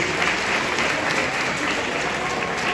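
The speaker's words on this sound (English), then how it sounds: "One more round of applause for yourself for being patient tonight as we conclude." Dense, steady applause from a graduation ceremony audience, loud and sustained throughout with no breaks or talk.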